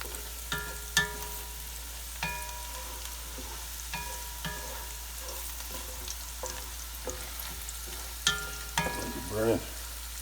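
Onions, gone soft and starting to burn, sizzle steadily in a pan while creamed spinach is being made, with scattered clicks and scrapes of stirring and a louder burst of clatter near the end, and no talking.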